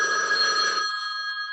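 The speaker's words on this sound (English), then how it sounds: "that's the one phone I cannot turn off because it's too old" An old telephone bell rings loudly and alone in a single steady burst, cut off partway through, with no voices over it.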